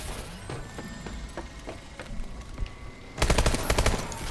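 Rapid automatic gunfire from Call of Duty Advanced Warfare: sparse distant shots and bursts crackle through the first few seconds, then a loud, dense fusillade of close shots erupts near the end.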